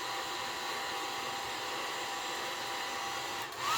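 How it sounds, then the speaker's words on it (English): An old, cheap hair dryer blows steadily while heating a vinyl hood decal on a Toyota Tacoma or 4Runner, a constant close whirring hiss of airflow and motor that barely changes, with a slight shift near the end. "This is kind of a piece of crap hair dryer I had around."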